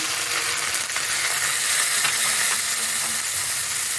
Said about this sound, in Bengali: পোস্ত বাটাটা আগে দিয়ে দেবো,